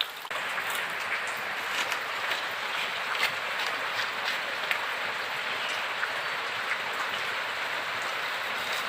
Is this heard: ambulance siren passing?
no